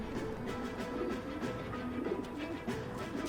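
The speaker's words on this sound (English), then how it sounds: "Aw, pigeons." Pigeons coo in L.A. Noire, a steady low burble of soft, repeated calls set against a constant ambient game backdrop, close and continuous with no talk over it.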